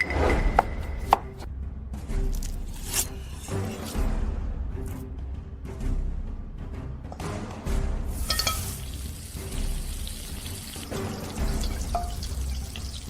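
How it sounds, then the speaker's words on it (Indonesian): A knife chops sole fish on a cutting board in a busy kitchen, a quick irregular series of sharp taps and knocks with brief pauses, accompanied by faint trickling water and kitchen clatter. "Dia memotong ikan sole."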